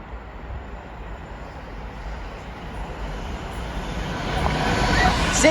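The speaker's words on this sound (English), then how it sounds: "first freight train here at Rugeley Trent Valley is going to be Daventry to Gaurdsmsn" A freight train approaches Rugeley Trent Valley station, a low rumbling roar building steadily in loudness as it draws nearer.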